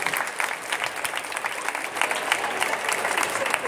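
Audience applause at a fashion show in a shopping centre, a dense steady patter of many hands clapping at moderate loudness for the whole stretch, with voices mixed into the crowd.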